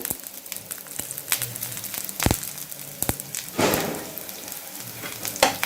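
Chopped onion, ginger and garlic sizzle in a pan with browned coconut for a Kolhapuri mutton masala, a busy crackling fry broken by sharp stirring scrapes, close and without talk.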